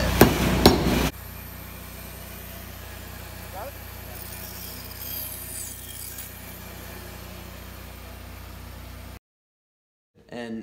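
A few sharp hammer strikes ring out in a woodworking shop, followed by a steady background drone.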